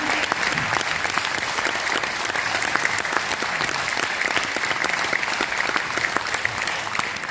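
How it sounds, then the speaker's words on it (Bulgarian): Steady applause from a large crowd at a church centenary celebration, continuous and fairly loud throughout with dense clapping and no pauses. "Нека всички отличени отново да получат вашите аплодисменти"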